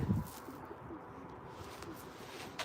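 Pigeons in a breeding loft give a low, soft coo near the start, then a faint murmur of birds over steady room ambience.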